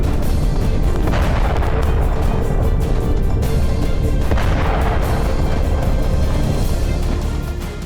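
A Chinese hydrogen bomb test explosion: a continuous, loud, rumbling roar with deep booming surges, sustained throughout and fading slightly at the end, with no voices.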